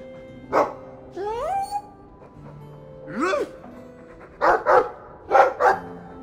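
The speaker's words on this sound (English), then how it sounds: "I like the doggy." A dog in Dragon Age 2 gives a few short barks, mostly in quick pairs near the end, mixed with a voice speaking between them.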